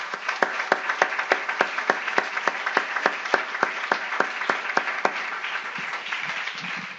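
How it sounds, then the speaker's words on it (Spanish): Rhythmic unison clapping from a church congregation, steady evenly spaced claps at about three per second, fading near the end. "Démosle un aplauso al Señor."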